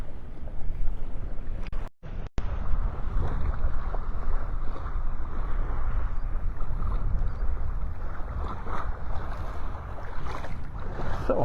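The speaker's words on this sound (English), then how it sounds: "the wind blowing in my face" Strong wind buffets the microphone on a Florida beach at Delnor-Wiggins in North Naples, a loud continuous low rumble with surf-like wash and a brief dropout near the start.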